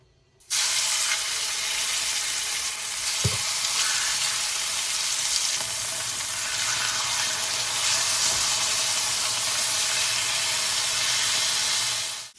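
Bone-in pork chops fry in a pan with a loud, continuous sizzle and hiss close by, steady for the whole stretch, with a single brief knock early on.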